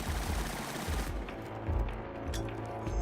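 Automatic gunfire from the Killzone Shadow Fall campaign crackles in a rapid burst, with heavy low thumps and dense overlapping shots, loud and close with no talking.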